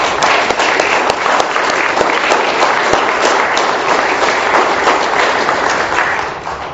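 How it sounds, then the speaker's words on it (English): Loud, dense applause from an audience at an AA meeting rises for a speaker, continuous crowd clapping that stays strong for several seconds and tapers off at the close. "Let's give another round of applause for our speaker."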